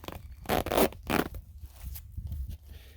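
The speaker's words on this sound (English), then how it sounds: "you can unzip each side" A NAR Eagle IFAK first aid kit pouch is unzipped in a few quick, close rasping pulls, each burst short and sharp, followed by quieter handling rustle.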